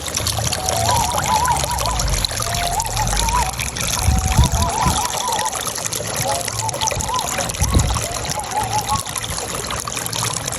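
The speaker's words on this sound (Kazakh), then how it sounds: "Крандар кішкентай ана бұлақ. Бірақ су тап-таза деп айта алмаймын, бірақ күшті." Small mountain spring pouring strongly through a little tap on a family picnic in the mountains, a continuous close rush of water with low thumps, while someone talks over it throughout.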